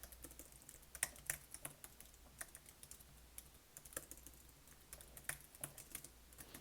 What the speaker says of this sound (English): just a bunch of typing really.